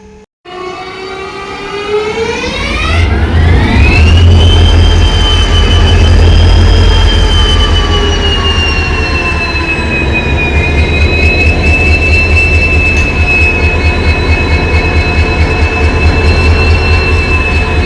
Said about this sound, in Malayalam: ലോക്കോമോട്ടീവ് ഓണാക്കുന്നു നോക്കിയിട്ട് തരാം.